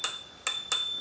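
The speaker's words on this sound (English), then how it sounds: "there's your bell." Bell on a TurboAnt X7 Max electric scooter, three bright metallic dings, the last two close together, each ringing briefly and fading.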